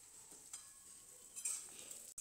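Potato pieces going into a pan with okra and frying, with faint sizzling and a few light stirring scrapes, fairly quiet and close, no voices.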